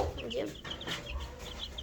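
Chicks on a poultry farm raised on starter feed cheep and cluck in quick, overlapping bursts that continue steadily throughout, with a faint murmur in the background.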